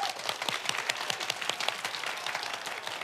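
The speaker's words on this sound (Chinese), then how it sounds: "给自己掌声鼓励一下，掌声" A studio audience at a television talk show applauds themselves: sustained, crisp clapping from many hands at close range, filling the whole moment without voices.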